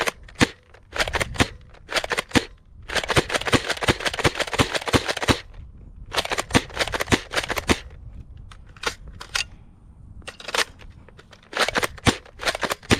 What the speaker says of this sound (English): Now I'm gonna fire a bunch of random shots downrange.